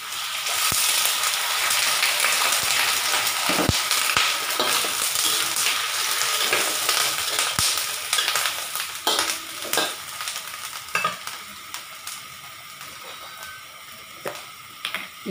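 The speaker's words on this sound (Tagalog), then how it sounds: "Haluin lang po natin." Hairy gourd and pork, cooked with ginger in a pan with a glass of water added, sizzle steadily while a utensil scrapes and stirs. There are scattered clicks, and the sound grows quieter toward the end, with no talking.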